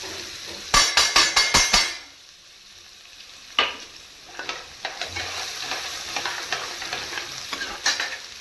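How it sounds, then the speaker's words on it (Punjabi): Chopped onions frying in a pan with whole red chillies for pakora kadhi, opening with a quick run of sharp utensil knocks against the pan, then a steady sizzle with scattered stirring scrapes, close and alone. "ਚੰਗੀ ਤਰ੍ਹਾਂ ਬਰਾਊਨ ਕਰਦੇ ਹਾਂ ਫਿਰ ਪਾਉਂਦੇ ਪਿਆਜ਼"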